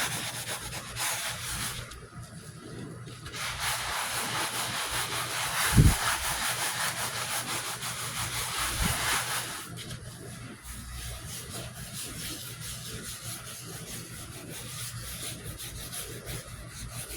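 A Scrub Mommy sponge scrubbing glitter off a surface, a steady close rasping rub with brief pauses and a couple of soft knocks, no talking.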